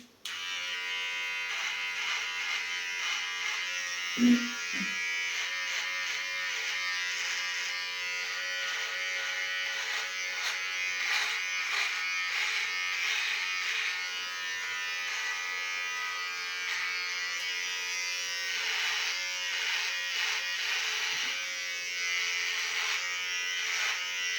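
An electric razor buzzes steadily and close up while shaving a man's head, a continuous high hum holding for the whole stretch with slight shifts in pitch as it moves, and one brief knock near the start.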